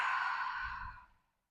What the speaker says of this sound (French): On expire bouche ouverte.